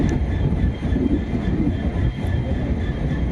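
A long Dibrugarh–Howrah passenger train with AC and general coaches stands at a station platform, giving a steady, loud rumble with faint rail clatter and no voices.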